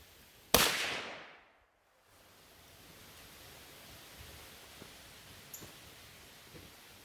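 A single sharp rifle shot from a restored Stevens 44 cracks loudly up close, its report decaying quickly into quiet outdoor hiss with faint small clicks afterward.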